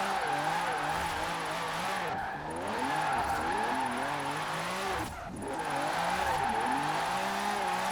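Engine of a British classic car set up for drifting in Forza Horizon 4, a loud, sustained high-revving drone with rising and falling pitch sweeps and tire noise as it slides, briefly dipping twice.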